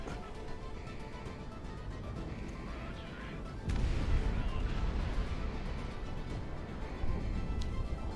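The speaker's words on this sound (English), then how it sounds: "Makes some wonderful explosions, this plane." Heavy booming explosions and crackling blasts from an aircraft in the video game Project Wingman, a dense rumbling barrage that swells louder midway and stays intense, with no talking.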